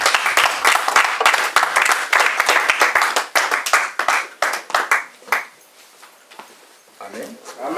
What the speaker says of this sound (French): On acclame pour Jésus-Christ.